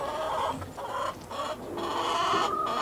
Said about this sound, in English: And then we got chickens in here.